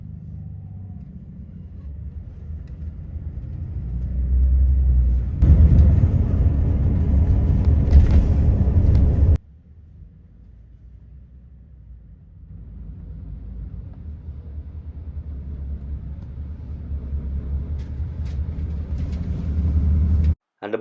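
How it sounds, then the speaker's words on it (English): Bus travelling from Tralee to Dingle in County Kerry, a steady low engine rumble that swells louder for a few seconds, drops suddenly, then builds again gradually, with no talking. "the bus stops right beside Dingle Harbour"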